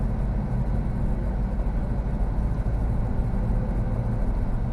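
A low-slung Chevy Cavalier drives steadily through a park, its engine and road noise a constant low rumble heard from inside the cabin with no talking.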